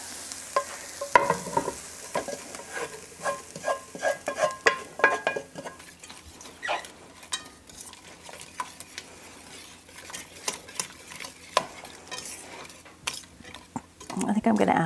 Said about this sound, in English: And now we'll add our onions and our garlic.